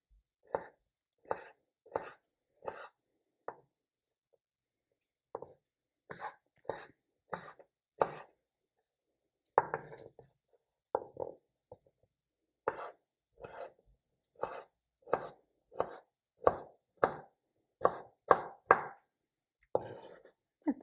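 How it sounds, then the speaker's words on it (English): Knife chopping dried apricots into small pieces on a board for a vegetarian soup, a quick run of crisp, evenly spaced chops that pause briefly and then resume in steady bursts, close and alone without talk. "dried apricots, which will add more sweetness to the soup. I'm just gonna chop them small pieces."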